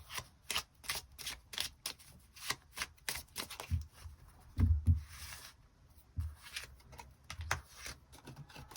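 Tarot cards being shuffled and drawn for a weekly reading, a quick run of crisp riffling and slapping flicks with a few heavier thumps, close up with no talking.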